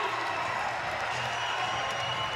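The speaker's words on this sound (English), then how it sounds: "this crowd is into it" A crowd cheers and claps at a BYU women's volleyball match in an indoor arena, a steady, fairly distant roar heard alone at low level.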